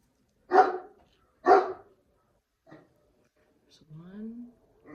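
A dog indoors barks twice, loud and close, about a second apart, followed by a short yip and a rising whine.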